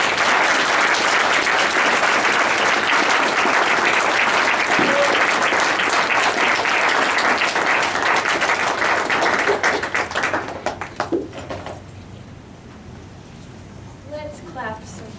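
Audience at a poetry reading clapping in a thick, steady burst that thins out and fades into scattered claps and quiet murmuring by the end.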